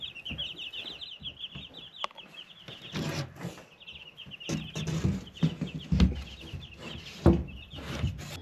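Chickens on a farm clucking in irregular bursts, near and moderately loud, with scattered bird chirps and occasional knocks in the background.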